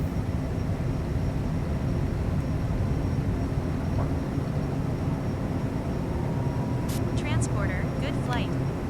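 A Cessna Citation CJ4 jet takes off in a flight simulator game, its engines a constant heavy roar from start to finish, with a few brief chirping tones near the end.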